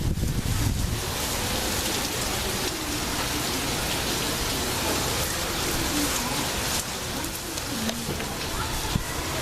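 Heavy rain pours down steadily on a rainy day, a dense, loud, continuous hiss of drops hitting surfaces, with a voice speaking faintly underneath.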